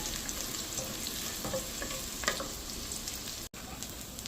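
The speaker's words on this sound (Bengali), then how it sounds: "তো চালটা ভেজে নিচ্ছি" Rice fries in a pan with ginger and garlic for pilaf, a steady close sizzle with occasional stirring scrapes and no talk.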